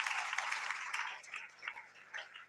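A church congregation at a Sunday meeting claps its hands in praise, a dense and fairly faint patter of many hands that loosens and thins out toward the end.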